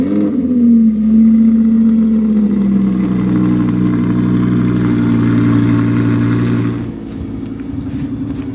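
An Audi R8 engine hums steadily while driving, a deep sustained drone with a brief rev near the start, then easing to a lower, quieter rumble toward the end; no talking.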